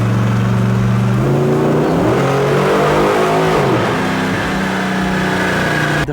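Chevelle V8 engine revving hard on a dyno, loud and close. A deep, steady roar climbs in pitch, dips as the gear changes, then rises again and holds, with no voices.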